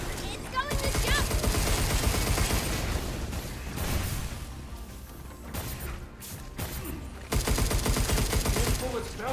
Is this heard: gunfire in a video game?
yes